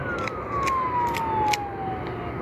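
An ambulance siren wails steadily, its pitch sliding slowly downward, over a busy rumble of traffic and street noise.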